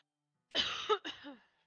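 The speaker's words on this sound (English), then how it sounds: "Sorry, I don't mean to keep coughing." Two short, raspy coughs or throat-clearing bursts from a nearby person, close and fairly loud, each followed by a brief voiced tail.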